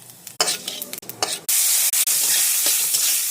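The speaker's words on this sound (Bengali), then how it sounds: "আর একটু সরষের তেল দিয়ে এখন দিয়ে দেবো তেজপাতা, জিরে" Bay leaves and cumin hit hot mustard oil and burst into a loud, close, continuous sizzle after a few brief clatters and stirring knocks.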